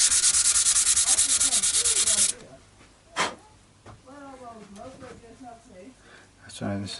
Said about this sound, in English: it's going to take quite a bit of filing down